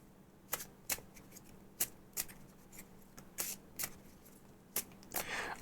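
Playing cards for the Kingdom Legacy board game being shuffled on a table, a series of quiet, separate riffling bursts with short pauses between them, ending in a louder flurry.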